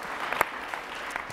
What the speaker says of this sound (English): He deserves an applause